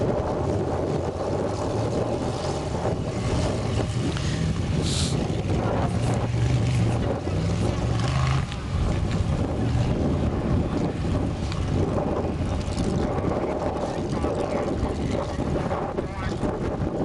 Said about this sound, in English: That's the wind whipping across the lake.